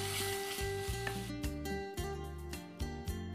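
Food sizzles steadily in a pan while being stirred for raw mango vermicelli pulihora on a TV cooking show, with close hissing and scraping strokes over a tonal music bed and no talk.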